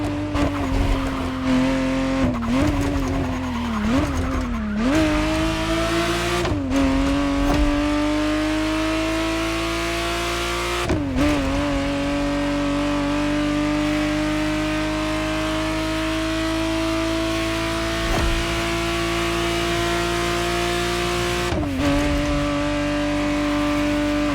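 Engine of a 1991 Ferrari Testarossa driven in The Crew Motorfest racing game, a loud sustained flat-twelve drone that rises steadily in pitch with brief dips at each gear shift, running alone without talk.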